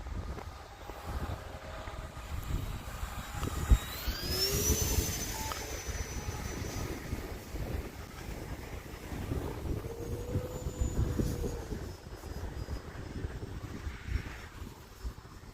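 An E-flite Turbo Timber Evolution RC airplane flies outdoors in windy conditions, its motor whine rising and falling in pitch as it passes, mixed with gusty wind buffeting the microphone.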